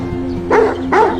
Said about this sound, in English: One morning, Lucky suddenly starts barking.